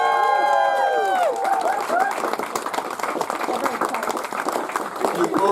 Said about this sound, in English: a huge round of applause for our maid of honor, Emma, and best man, Ryan.